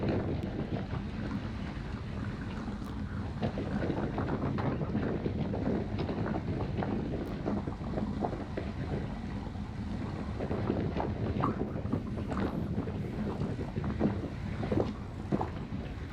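Wind buffets the microphone during a road cycling group ride, a constant loud low rumble that roars steadily throughout with no speech.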